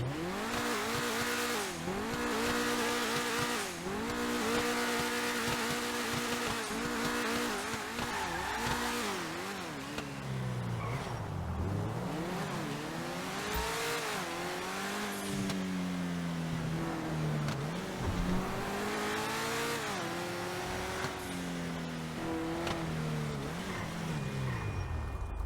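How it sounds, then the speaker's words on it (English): Lampadati Tropos Rallye car engine in GTA Online revs and accelerates continuously through repeated rising gear sweeps and shifts, with occasional tire squeal, steady and fairly loud throughout. "we're gonna do a sound test as well as a full review on the car"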